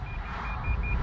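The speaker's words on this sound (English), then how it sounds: "excuse the loud beeping" A malfunctioning car gives off a steady run of evenly spaced, high-pitched electronic beeps over a low rumbling background drone, loud and repetitive throughout.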